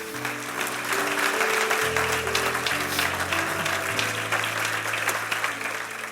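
A church congregation breaks into sustained applause during a sermon, with steady, even clapping throughout and a sustained musical tone from keyboard or organ playing underneath.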